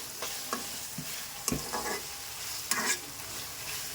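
Chopped tomatoes for chicken masala frying in a pan, a soft steady sizzle punctuated by several distinct spoon scrapes and knocks at irregular intervals, close by and without any talk.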